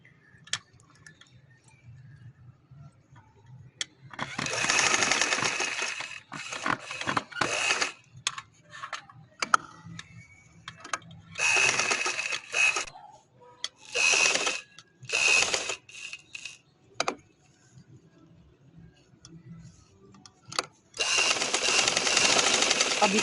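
Bursts of a sewing machine stitching the neck of a shirt, alternating with quiet pauses and light handling clicks, close and mid-loud, with no voices.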